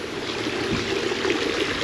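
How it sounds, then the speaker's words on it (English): A small river or creek flows through a valley resort property at Merrijig, a steady close-up rush of water with soft gurgling and no voices. "river or creek flowing through the property"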